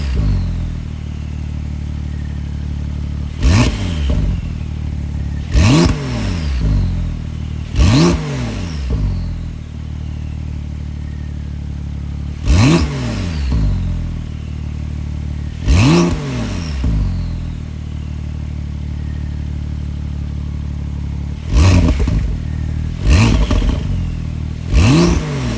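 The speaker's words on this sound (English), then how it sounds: "give you guys some revs, and let's hear these turbos whistle" A modified Porsche 992 Turbo S with sport catalytic converters and exhaust valves closed sits idling, then gets seven sharp, loud throttle blips, each rising and falling quickly, heard up close with no talking.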